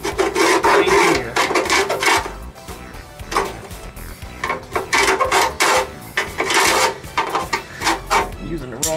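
Hard tool scraping a cut line onto steel during a 1967 VW Bus frame repair, close rasping strokes in quick repeated bursts with short gaps between them.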